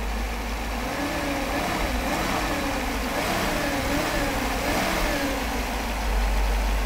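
Mercedes 500SL engine running near and steady, its pitch rising and falling in gentle revs as the throttle actuator opens and closes, with no talking over it.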